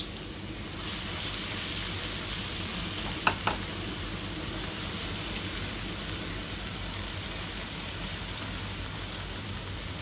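Garlic and ginger, with curry leaves, sizzle in hot oil while browning, a steady close, even hiss running throughout, broken only by two quick faint clicks near the middle.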